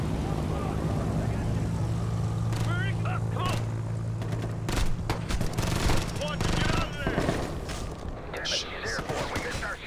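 Gunfire in the Ghost Recon Future Soldier co-op game: scattered shots and rapid machine-gun bursts mixed with engine noise, loudest midway, while players talk over it.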